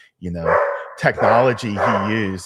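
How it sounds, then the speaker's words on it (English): A pet dog named Woodford barks and yips excitedly in several loud bursts close by, with a person talking over and between the barks. "if you hear Woodford the dog in the background"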